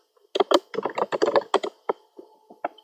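Close computer keyboard keystrokes as the ipconfig command is typed to check a VirtualBox network adapter: a burst of quick clicks followed by a few sparse, separate taps.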